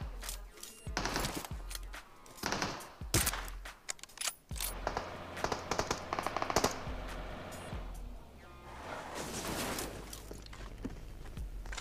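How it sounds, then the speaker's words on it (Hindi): Gunfire rings out in a battle royale video game: sharp single shots and rapid automatic bursts at varying distances, interspersed with clicks and mechanical clatter, with no talking over it. "पीछे वाली साइड से एक गन का साउंड आता है"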